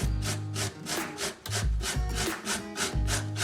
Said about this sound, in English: Now we're going to grate the carrot.